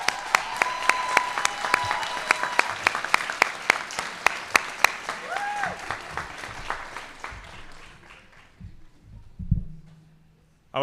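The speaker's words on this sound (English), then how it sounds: "let's give them a round of applause" Sustained applause from a crowd at a high school graduation ceremony, steady clapping that gradually thins out and fades toward the end.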